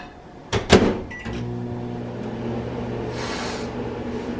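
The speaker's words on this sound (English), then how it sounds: "I think I need to microwave it a little bit longer." A door clatters and a couple of button beeps sound, then a microwave oven starts and hums steadily, close and continuous.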